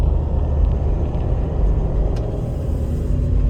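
A car bouncing over a badly broken road, with a steady loud low rumble of tyres and engine from inside the cabin and occasional jolts.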